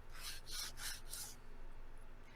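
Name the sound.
sanding model parts on sandpaper sanding board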